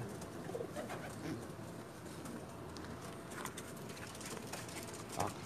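Soft pigeon cooing over a steady outdoor hum, with a few brief bird calls scattered through and no one talking.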